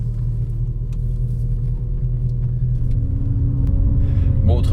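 A Mercedes CLK500 engine runs loudly and steadily, a deep continuous rumble close by that swells slightly in the final second.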